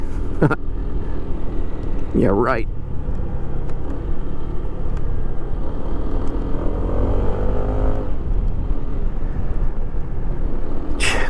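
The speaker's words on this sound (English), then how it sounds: "cars everywhere" Cars passing in busy road traffic, a steady rumble of engines and tires throughout with a couple of closer vehicles sweeping by, while people talk briefly over it.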